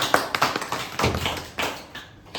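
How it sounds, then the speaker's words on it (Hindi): People clapping at a surprise birthday celebration, a quick run of close, uneven claps and taps that bunch together, then thin out into a few scattered hits. "और ताली ताली बजाइए, ताली सबको।"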